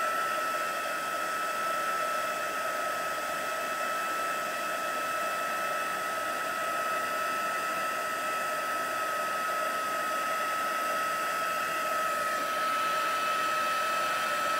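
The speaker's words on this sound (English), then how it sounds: "while heating, just make sure that you are moving your heat gun in a circular motion so that each and every area gets heat up." A heat gun blows steadily over chalk paint on a craft envelope, a constant close airy roar with a whining tone that holds unchanged throughout, with no talking.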